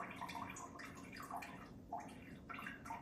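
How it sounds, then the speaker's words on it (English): Cold brew coffee drips and trickles from a lifted filter into a container below, with small irregular droplet splashes and gurgles over a few seconds, close and fairly quiet. "Just let it drip a little bit."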